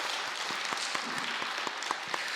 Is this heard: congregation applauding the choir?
yes